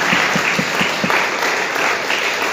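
A church congregation at a Sunday service claps together, loud crowd applause with a few rhythmic, in-time claps near the start under the wash, continuing steadily without speech.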